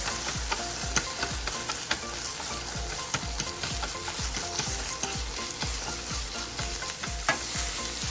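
Seasoned meat with garlic powder, onion powder and salt frying in a pan, loud continuous sizzle with rapid repeated scraping and chopping clicks of a utensil against the pan throughout, close-up and without talk.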